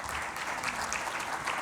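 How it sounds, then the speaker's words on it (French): Applause for the panelists at the close of a French-language conference panel, a steady dense patter of many hands held at even loudness throughout, with no voices over it. "on peut les applaudir"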